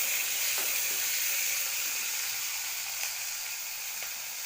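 Chopped onions fry in a pan for an onion-tomato curry, giving a steady, even sizzling hiss with occasional faint pops, no voices over it.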